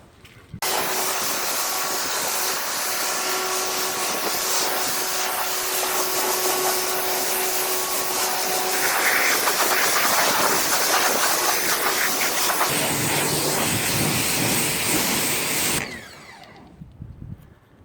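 A Sun Joe SPX 4001 electric pressure washer rinses foam off a 2018 Ford Mustang GT, a loud steady spray hiss running continuously for about fifteen seconds before cutting off.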